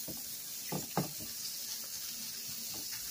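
Shrimp for fajitas frying in a pan with the heat turned off, a soft steady sizzle with a few clinks and scrapes of a utensil against the pan.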